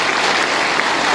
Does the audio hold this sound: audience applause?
yes